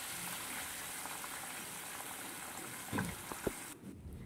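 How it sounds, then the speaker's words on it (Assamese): Fish sizzle in hot oil in a wok, a steady, dense crackling hiss with a few faint clinks near the end. "এতিয়া মই ইয়াতে মাছকেইটা ধুনীয়াকৈ দি দিছোঁ। মাছকেইটা ধুনীয়াকৈ মই ভাজি ল'ম।"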